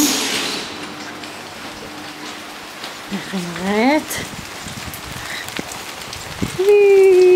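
Rain falling outdoors in a yard, a steady soft patter heard throughout, with someone speaking briefly and a few short tonal whistles and squeaks near the end.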